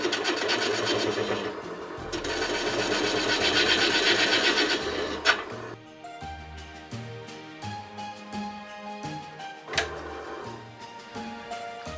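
Skew chisel cutting a spalted oak ornament on a wood lathe, a rasping, scraping whir in short bursts, louder early on, then choppy light scrapes and taps as the cut stops and starts, close up and without speech.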